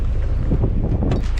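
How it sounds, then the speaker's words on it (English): Wind rumbles and gusts against the microphone outdoors in a brief, low blustery burst. "Oh, it is a little windy outside."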